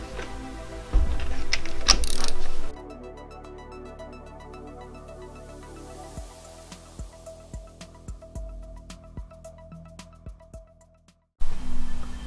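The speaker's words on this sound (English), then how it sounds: "Now the spark plugs need to be torqued up between 132 inch pounds and" A torque wrench tightening spark plugs on a Mazda MX5 turbo build, with a run of close, rapid ratchet clicks after a louder mechanical clatter at the start.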